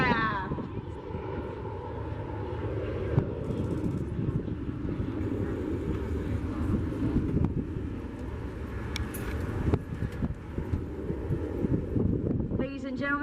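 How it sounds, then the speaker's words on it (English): The world's first single-engine jet fighter runs its jet engine at an airshow at Oshkosh AirVenture 2025. It gives a loud, steady broadband roar that holds for the whole stretch, with wind buffeting the microphone and a faint voice in the background. "Listen to that sound of the very first jet engine on an aircraft."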